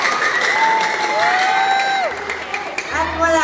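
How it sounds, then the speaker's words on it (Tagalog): A pageant audience claps and cheers in a dense, continuous roar, with whoops and shouting voices rising over the applause throughout. "Wala po bang palakpakan dyan?"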